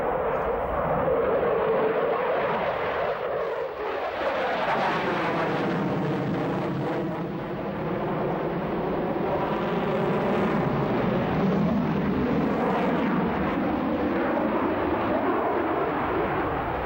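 A MiG-29 Fulcrum jet fighter roars past at an air display, its loud engine noise sweeping audibly in pitch as it approaches, passes and recedes, then swells again in a long, continuous rumbling drone.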